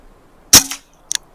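An air rifle fires a single sharp shot while hunting, a crisp crack with a short tail, followed by a faint metallic click a moment later.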